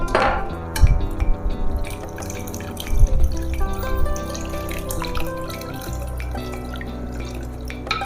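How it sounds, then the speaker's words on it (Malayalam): Water splashes and trickles steadily into a metal cooking pot for a ripe mango curry, with clinks and a continuous pouring sound throughout. "ആവശ്യത്തിന് വെള്ളം ഒഴിച്ചു കൊടുക്കണേ"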